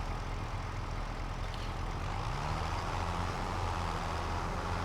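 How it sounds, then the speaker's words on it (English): A tractor engine in Farming Simulator 25 drones steadily, a continuous low rumble with a faint tonal hum that holds even throughout without pause, moderately loud and alone. "I'm gonna go ahead and move the tractor a little bit anyway."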